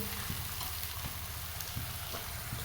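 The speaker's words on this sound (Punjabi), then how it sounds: "ਹਾਈ ਫਲੇਮ ਦੇ ਉੱਤੇ ਹੀ ਮੈਂ ਇਹਨੂੰ ਫਰਾਈ ਕਰ ਰਹੀ ਹਾਂ" Onions frying on a high flame give off a steady, dense sizzle throughout, with faint stirring scrapes now and then and no voices.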